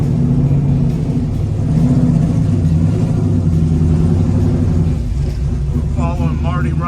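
A Mopar Aero Warrior car engine idles with a raised idle at a motor speedway, a loud steady low rumble throughout, with faint voices and some higher whirring near the end.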